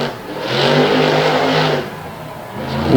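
The ATI Performance Products Stinger Unleashed monster truck at a Renegade MTT event in Franklin, PA, its engine revving up to a sustained loud roar, easing off, then climbing again at the end.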